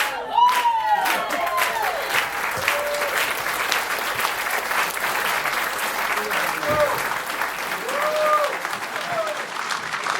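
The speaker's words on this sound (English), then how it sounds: "Everybody clap." A large audience applauds loudly and steadily, with scattered cheers and whoops rising over the sustained clapping.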